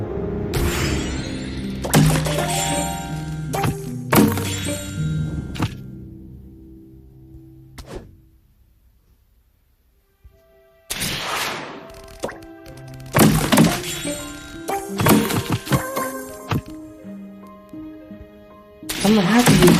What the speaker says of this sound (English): I'm gonna have to use the bomb and the rocket.